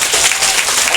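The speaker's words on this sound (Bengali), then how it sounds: "তেজস্বিনীর জন্য একটা হাত তালি হবে প্লিজ।" Audience applause for a prize winner at a South Point High School session, a dense, steady wash of many hands clapping at once, loud and close for the whole second with no voices above it.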